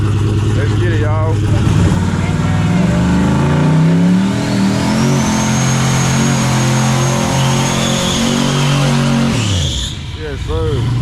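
Full-size trucks launch in a drag race at a track, loud roaring engines revving and pulling away together, then fading, with people talking under the noise.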